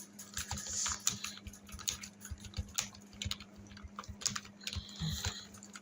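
Rapid, fairly quiet keystrokes tap out HTML code on a keyboard in an irregular stream of soft clicks, close by with no talking.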